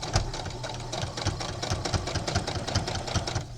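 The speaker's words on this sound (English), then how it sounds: "We're just going to do a really loose basting stitch all the way across." Sewing machine running a loose basting stitch across a knitted towel topper, with a fast, steady mechanical chatter of needle strokes, close and continuous, without talk.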